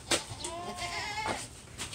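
A La Mancha milk goat bleats twice, a short sharp call followed by a longer wavering one, close by and fairly quiet against a low farmyard background with no talk.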